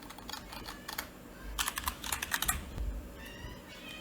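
Typing on a computer keyboard, a quick close run of soft key clicks with irregular rhythm and a brief flurry in the middle, fairly quiet and with no talking.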